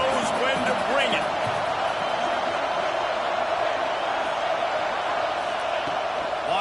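Stadium crowd roar in an NCAA College Football 26 video game during an NC State red-zone drive, a loud, continuous wash of cheering throughout, with commentary over it.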